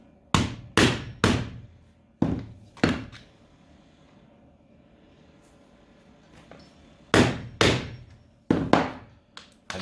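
A hammer strikes a screwdriver against an alloy metal casing, giving sharp, loud metallic knocks in quick clusters of two or three, separated by quiet pauses.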